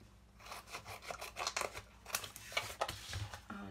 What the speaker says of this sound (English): now I'm going to grab my scissors, go ahead and cut